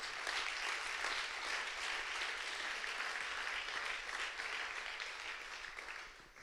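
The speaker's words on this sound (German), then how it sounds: "gebt Gott einen Applaus" Sustained audience applause fills a large church gathering, a dense steady wash of many hands clapping that holds loud throughout and tapers slightly near the end, with no voices standing out.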